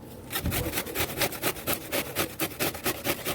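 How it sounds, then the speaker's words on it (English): Zucchini is grated by hand, making a loud, close, rhythmic rasping of quick repeated strokes, about four or five per second, with no voices. "So I'm grating the zucchini."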